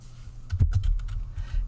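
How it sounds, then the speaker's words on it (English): Loud computer keyboard clacking close by: a quick burst of several sharp key strikes, with a few softer taps after it and a low hum underneath. "And yes, my keyboard is really loud."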